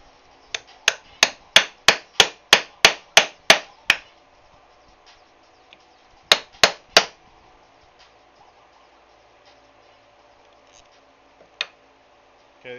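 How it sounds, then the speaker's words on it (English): Hammer strikes on a punch cutting rivet holes in a leather knife sheath: a run of ten sharp, evenly spaced taps, a pause, then three more, with a faint knock later, close and crisp in a quiet room. "So I'm gonna punch holes for rivets and for this string, leather cord"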